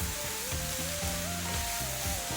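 Chicken fried rice sizzling in a pan as ground turmeric is stirred in, a soft continuous frying hiss with low scraping undertones, fairly quiet and without speech.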